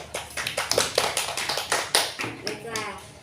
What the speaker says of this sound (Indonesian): Boleh tepuk tangan ke kawannya?